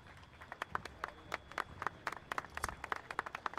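A small audience of modest-looking people applauds Uruguayan president Pepe Mujica, sparse separate claps ringing out quietly and unevenly, heard from some distance.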